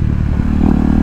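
A KTM Duke 390 BS4 motorcycle is ridden on the road, its engine a loud, close, steady drone with wind rumble in a brief burst.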